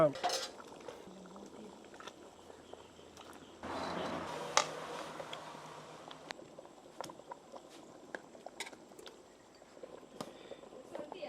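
A pot of Salem-style fish curry with a fish head simmers and boils, giving steady soft bubbling with scattered sharp pops and crackles. A brief louder stretch of bubbling comes partway through.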